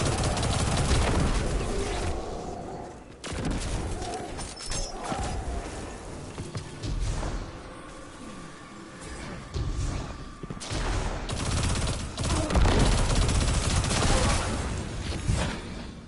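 Sustained automatic weapon fire in the shooter Destiny 2, loud continuous bursts of crackling machine-gun shots with brief pauses, mixed with impacts and game effects throughout.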